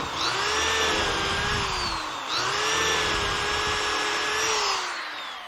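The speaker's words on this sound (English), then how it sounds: "Now I start out by drilling the 3 holes in the jig." A power drill whines steadily at high speed while drilling holes through a woodworking jig, its pitch dipping briefly midway as it bores through, then running on loud and close.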